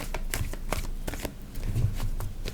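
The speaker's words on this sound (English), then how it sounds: "let's cut the deck" A tarot deck is shuffled by hand in rapid, crisp riffling bursts, quiet and close, the papery flicks repeating in quick irregular clusters.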